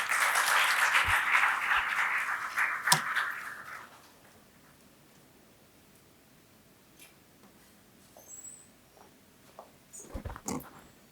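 Room-filling applause from an audience at a college orientation event, a loud dense burst of clapping for about four seconds that quickly dies away, followed by quiet room noise and a few scattered knocks.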